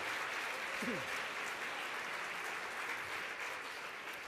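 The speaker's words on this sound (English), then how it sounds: "Round of applause for all 10 nominees in the Best Female category." Applause for ten nominees in the Best Female Presenter category at the National Hospital Radio Awards 2013, a steady, distant wash of crowd clapping that holds at an even level with only a brief tonal blip near the start.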